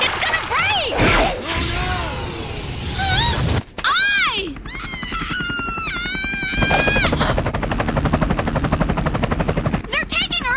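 A helicopter in an anime scene from The Law of Ueki, its rotor beating as a steady rapid chop under excited talk and shouting, with a loud crash partway through.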